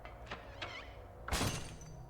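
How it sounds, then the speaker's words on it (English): Glass shatters in the Silent Hill video game, a single sharp crash with a brief spray of breaking shards that rings out over quiet, low ambient game sound, preceded by a couple of faint knocks. "I heard that glass shatter"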